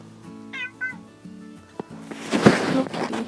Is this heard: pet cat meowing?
yes